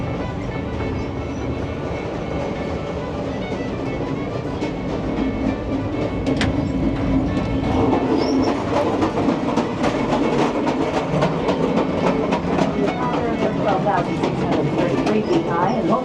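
A Grand Canyon Railway passenger train rolls along the tracks with a steady loud rumble and rhythmic clacking, heard from inside the car while people talk over it.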